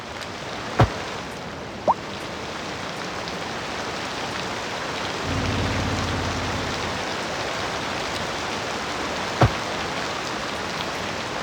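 Steady, loud rain in the city-building game Cities Skylines II, a constant broadband hiss of falling drops with a brief low rumble swelling midway and a few faint sharp ticks scattered through.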